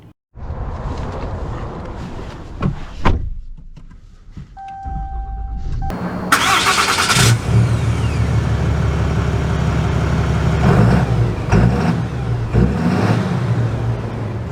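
A 2024 Ram 3500 Big Horn heavy-duty diesel pickup set up for towing starts out and pulls away, its deep engine drone rising and settling as it accelerates, heard up close and steady for over ten seconds.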